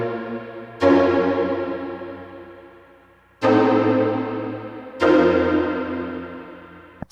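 Synth chord progression through Crystalline reverb and other effects with the lows cut, three bright struck chords spaced a couple of seconds apart, each ringing out in a long shimmering decay.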